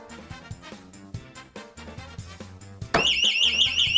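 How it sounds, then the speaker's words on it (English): A fire alarm test: busy thumping music plays at first, then a sharp click sets off a loud, piercing, rapidly warbling electronic alarm tone that carries on steadily close to the microphone. "Honestly, that's quieter than I thought. Usually fire alarms are a little over the top."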